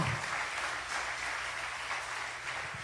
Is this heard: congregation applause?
yes